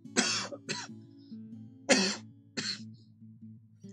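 Four sharp coughs in two quick pairs, close and fairly loud, with a low steady hum running underneath.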